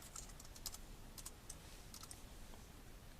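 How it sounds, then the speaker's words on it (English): Quick bursts of keystrokes as a password goes in on a computer keyboard, faint and close, with short pauses between clusters of taps. "I'm going to put in a complex password for it."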